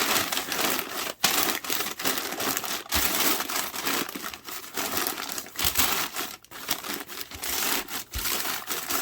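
A sheet of paper is crumpled and pressed down over a worm bin, giving a loud, close, continuous crinkling and crunching that runs throughout with brief dips, and no voices.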